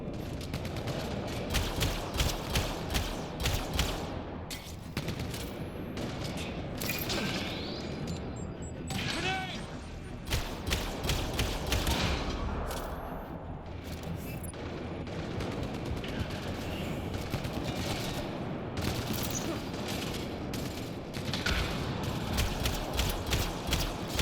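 Gunfire rattles almost nonstop in Mass Effect Andromeda on Insanity difficulty, mixing rapid automatic bursts with sharper single shots, loud and dense throughout with brief lulls. Voices talk during the fight.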